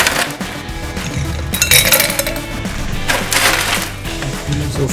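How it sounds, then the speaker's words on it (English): Ice cubes are dropped into a large wine glass, giving bursts of bright clinking and rattling. The cubes tumble and knock against the glass in irregular clusters, close up. "I'm going to fill this up with some ice."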